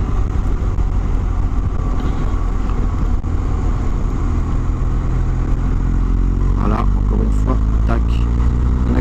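A new BMW R1250GS motorcycle engine runs steadily and loud, with a smooth, even drone and some mechanical clatter rising toward the end as it accelerates from low revs.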